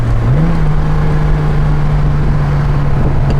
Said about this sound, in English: Really strong. Strong acceleration, great Jaguar brakes.